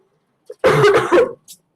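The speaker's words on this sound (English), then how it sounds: "I'm extremely sorry for this cough." A single harsh cough bursts out close to the microphone, followed by a short throat-clearing rasp and a faint breath in a quiet room.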